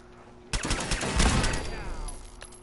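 A small pistol fires in Fallout 4, a rapid string of close, loud shots starting abruptly, then echoing and tapering off into a lingering tail.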